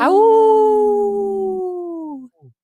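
A single long, loud, close howl, likely a person imitating a wolf on a radio show, rising briefly and then holding a steady tone before trailing off, with no talk.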